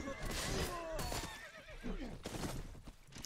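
A horse in the video game Mount and Blade neighs and whinnies in several loud, shrill bursts, mixed with clip-clop hooves and battle noise, close and prominent.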